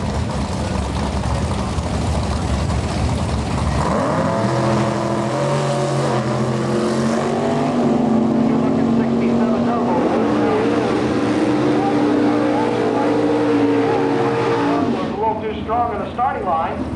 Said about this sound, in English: The Chevy 2 hardtop is up against Mark Bourdon from Kingsville